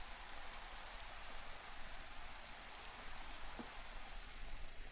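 Steady, even hiss of video game rainfall, soft and constant with no voices, like a continuous downpour.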